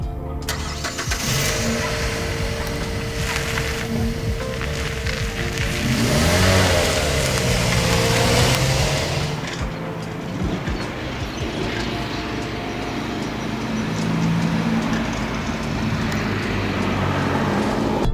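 A Mazda 3 Sport on the move: the engine hums and revs with rising and falling pitch, swelling louder midway and again later, with steady road rumble beneath and no talk.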